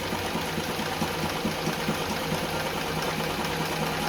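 A Singer 237 Fashionmate sewing machine runs a wide, short zigzag stitch, a fast, even mechanical clatter and hum that holds steady throughout, close and alone with no talking.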